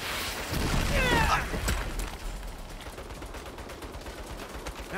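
Rapid turret gunfire in Saints Row rattles close and loud at first, then gives way to a long trail of quieter, fast repeated shots and mechanical clatter.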